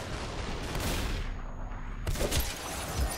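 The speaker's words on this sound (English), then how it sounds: "Oh, somebody behind me was shooting." Bursts of gunfire in the shooter game Superhot, a dense flurry of shots, then a short lull, then another loud burst.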